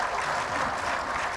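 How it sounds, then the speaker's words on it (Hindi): An audience at a pharmacy conference claps in a dense, steady wash of applause with no single claps standing out, filling the whole short stretch. "यह हर ताली आपसे कुछ कह रही है"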